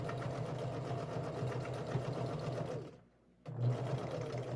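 A domestic sewing machine quilting hums and rattles in a steady, close, loud drone, stops abruptly for a brief moment, then starts up again.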